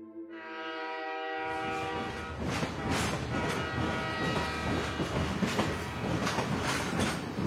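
Train running in a Bengali audio drama sound effect: a steady rolling rumble with rhythmic clatter, preceded by a sustained tonal horn-like note at the start, loud and continuous throughout with no talk.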